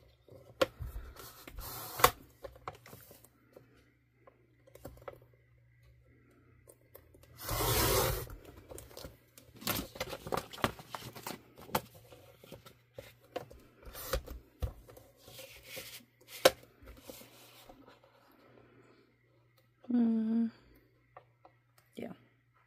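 A 4-inch strip of vinyl being cut, with scattered crisp snips and rustles, short bursts of handling and sheet crinkling, and a person talking between the cuts.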